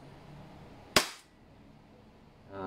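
An EMG Taran Tactical Pit Viper airsoft pistol fires a single sharp gas blowback shot that cracks up close and then fades quickly into a quiet room.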